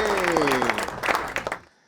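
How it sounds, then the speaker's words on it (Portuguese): An audience bursts into applause while a voice speaks over it, congratulating the team behind a Brazilian satellite; dense clapping swells twice, then cuts off abruptly into near silence. "uma salva de palmas de todo mundo"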